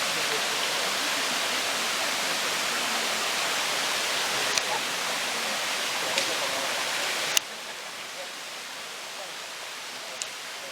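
Steady broadband rush of a waterfall at a cruise stop in Tenerife, Madeira or the Caribbean, a constant wash of falling water filling the whole stretch, with a few faint clicks and a slight drop in level partway through.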